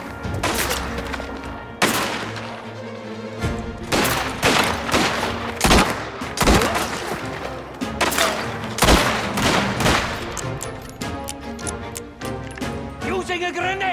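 Heavy gunfire from the video game Mafia: The Old Country, with repeated loud bursts and single shots, crashing impacts and a booming hit, all close and dense over game sounds and voices.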